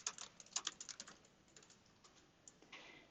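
Quiet, close keystrokes on a computer keyboard as a message is typed, a quick irregular patter that thins out into a few scattered taps.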